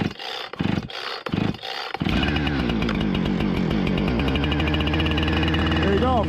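Gas chainsaw with chain brake set and decompression release pushed, pulled to start outdoors for cutting firewood: a few rough pulls of the starter cord, then the engine catches on the first pull and runs loud and steady at high idle.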